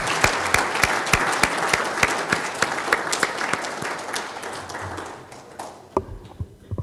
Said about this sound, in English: I call a round of applause for the 3 of you.